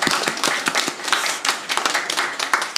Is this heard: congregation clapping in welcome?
yes